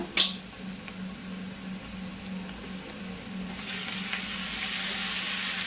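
Amaranth leaves (thotakura) dropped into a pan of frying onions, a sharp clatter at the start and then a steady soft sizzle that swells louder partway through, with a low hum underneath.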